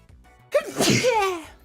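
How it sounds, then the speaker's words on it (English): A single sharp sneeze bursts out close by, a quick intake followed by a loud explosive release that trails off. "I just sneeze."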